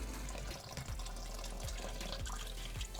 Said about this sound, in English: so we'll just let this water drain for a little bit.